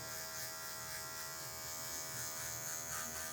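An electric hair clipper fitted with a number 0 guard cuts hair for a mid fade, producing a steady, faint close buzz with a faint, even rasp of cutting, with no talking.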